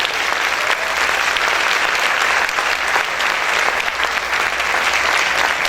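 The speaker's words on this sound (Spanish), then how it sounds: "Ese aplauso es para el Señor," Church congregation applauding loudly and steadily, dense sustained clapping from a large crowd filling the space without pause and without talk.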